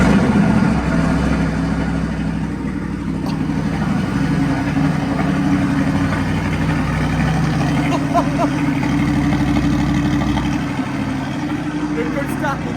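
Supercar engine on a cold start roars at a loud, rumbling high idle throughout, with people talking over the engine noise.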